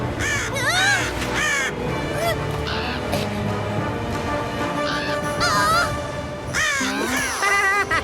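Cartoon crows caw and squawk in a nest scene, harsh repeated calls layered over busy music and animated sound effects, with some voices in the mix.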